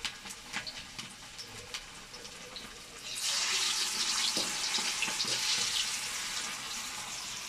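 Cabbage bonda fritters being dropped into hot oil in a stone pan for an evening tea snack. Quiet clinks and handling at first give way to a steady, bright frying sizzle that swells midway and keeps going.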